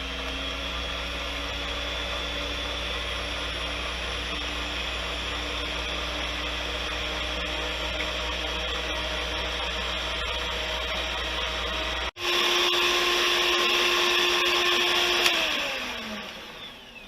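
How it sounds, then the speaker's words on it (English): An electric hand mixer beats egg whites with cream of tartar toward soft peaks for a citrus meringue pie, a loud steady whirring drone that holds for about twelve seconds, then jumps higher and brighter before winding down at the end. "we're going to beat this until soft peaks form."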